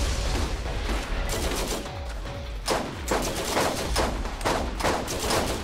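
Video game gunfire in Borderlands as a player shoots an enemy, rapid bursts of loud close shots with booming thuds running almost continuously, little talk.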